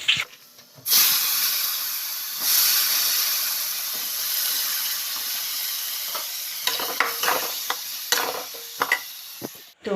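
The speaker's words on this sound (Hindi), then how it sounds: "अभी करूँगी मैं फ्राई, इसको तड़का लगा लूँ" Chopped vegetables fry in hot oil with tempering, a loud, continuous close sizzle and hiss, broken toward the end by scraping bursts as the pan is stirred.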